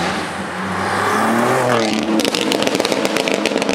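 A Stage 2 tuned 700bhp BMW G80 M3 cruises with a low, steady exhaust drone, then revs and crackles sharply as it pulls up close by.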